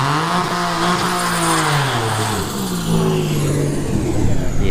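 Drag race launch between a Tesla Model S Plaid and a V6 turbo Mustang at a dragstrip, a loud engine rising and falling through gear changes over a whining electric drivetrain, fading down the track.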